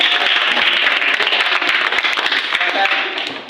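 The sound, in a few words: applause for group 5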